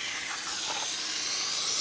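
A big steamer hisses steam onto a window, a steady, continuous close-up hiss holding at an even level throughout with no voices.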